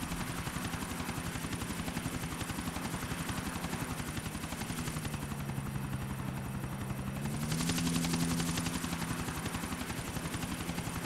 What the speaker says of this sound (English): The guy in the golden chopper?